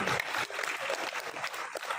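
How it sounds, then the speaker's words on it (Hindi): Applause from an audience at an event, a brief burst of dense, fairly loud clapping that continues steadily throughout without any voices. "इसलिए पटियाली के लिए जोरदार तालियां बजा दी"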